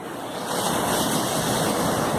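Ocean surf and wind on an island beach make a steady, loud, continuous roar of breaking waves with gusty wind noise across the microphone, no voices.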